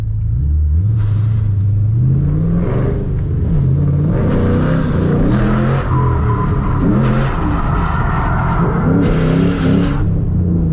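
A car engine revs repeatedly, climbing and falling in pitch as the throttle is worked, loud and close with a rough rumble.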